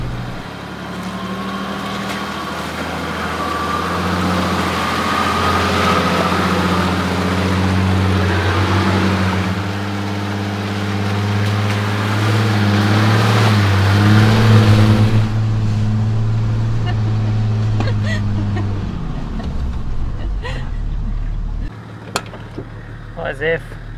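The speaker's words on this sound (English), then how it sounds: "just listen, see how the engine's obviously like getting noisier" Diesel engine of a 1995 Nissan GQ Patrol with the TD42, heard from inside as it pulls and grows louder and rougher, steady drone rising before easing off near the end, with people talking over it.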